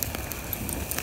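Campfire crackling while eel liver cooks over it, sharp scattered pops and snaps over a soft hissing bed, fairly close and moderate in level.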